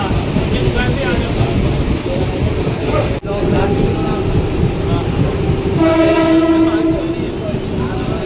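A Mumbai local train runs through Prabhadevi station without stopping, a loud continuous rumble and rattle of wheels and carriages heard from close by, with a sharp break and then a horn-like tone later on.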